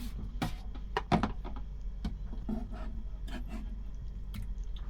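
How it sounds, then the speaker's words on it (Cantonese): A knife slowly sawing through fresh abalone on a chopping board, soft irregular rasping strokes and wet clicks close up over a low steady background hum. "把刀向住個砧板慢慢鋸"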